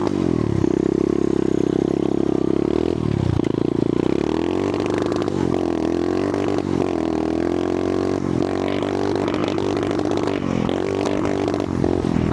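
A cheap pit bike engine revs loudly and repeatedly against a rev limiter set to 6,000 RPM, the pitch rising and then cutting out in a choppy, stuttering pattern over and over.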